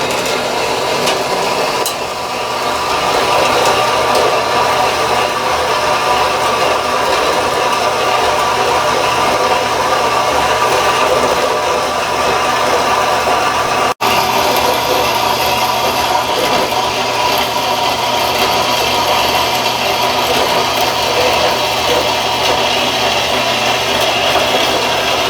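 Power saw steadily cutting a 1/2 inch piece of material in half in a machining shop, a loud continuous grinding whine running unbroken for the whole stretch with no talk.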